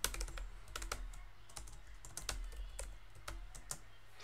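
Rapid clicking keystrokes on a computer keyboard while writing LaTeX, irregular taps in quick bursts, close and quiet with a low hum underneath and no talk.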